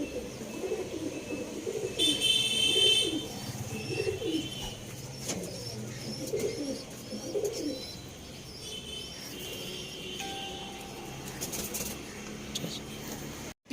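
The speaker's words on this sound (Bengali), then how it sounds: "টিপলার পায়রা খুব ভালো পায়রা, উড়ানের পায়রা।" Pigeons coo repeatedly in a loft holding Arsad and Andhra breeds, steady soft rolling calls close by with occasional chirps and faint background noise, no talk over them.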